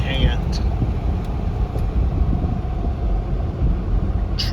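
A heavily loaded 2011 Ford Expedition Limited 4x4 straining under acceleration, a steady low engine drone with road and wind rumble heard from inside the cabin, loud and continuous.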